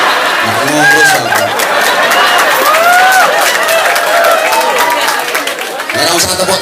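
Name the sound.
audience applause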